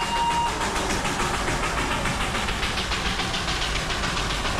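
Coal-fired steam locomotive of the Darjeeling Himalayan toy train, a steady loud rumbling chug with rhythmic pulsing and rail noise running throughout, no voices.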